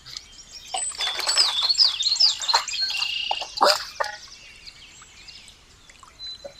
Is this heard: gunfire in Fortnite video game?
no